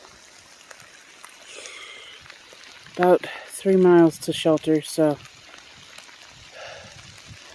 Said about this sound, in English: Well, it happened. I'm getting rained on.